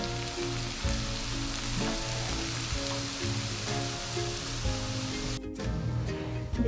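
A spice paste frying in a pan for a red snapper dopeyaja gives a dense, continuous sizzle close by, with faint stirring scrapes mixed in and a brief dip near the end.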